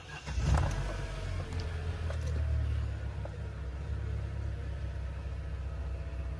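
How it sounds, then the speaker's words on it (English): A Vauxhall Corsa with an ignition misfire cranks and starts, then runs with a steady low engine drone close by, slightly uneven, settling toward idle with no voices. "Let's start the car and see if I fixed it or not."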